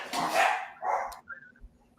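A dog gives two quick barks close by, the first louder and rougher, the second shorter, followed by a faint high yip.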